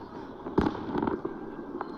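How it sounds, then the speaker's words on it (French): Fireworks going off during a New Year festival celebration in Jinzhong, China: a cluster of sharp pops and crackles over a dense, distant rumble of continuous bursts. "Les gens allument des feux d'artifice."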